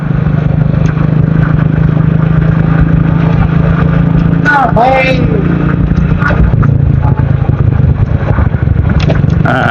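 Motorcycle engines drone steadily close by for the whole stretch, with a voice talking over the constant road noise.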